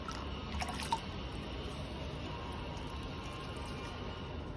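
Water trickles and drips softly while dry potted plants are watered, with faint splashes near the start and a low, steady liquid wash after that, with no voices.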